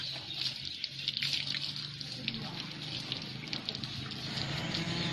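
A hose sprays water onto Cream the elephant, a steady hissing rush of water with faint splashing, moderately quiet, heard alone.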